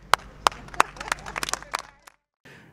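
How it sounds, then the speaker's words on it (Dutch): A small group at an outdoor balcony exercise day in Leiderdorp claps in a sparse burst of crisp, separate handclaps that quicken and then die away, leaving a short near-silence before a final faint sound. "Dus wat dat betreft een applaus."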